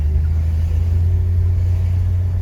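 A car fitted with dual Holley 1920 carburetors drives along accelerating, a loud, steady low engine rumble heard from inside the cabin.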